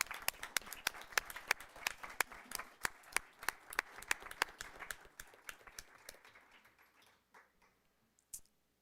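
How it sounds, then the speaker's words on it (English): A small group at a board meeting gives a round of applause, sparse distinct claps in a loose rhythm that thin out and fade after about six seconds, leaving near quiet with one last faint clap. "Let's give one more round of applause"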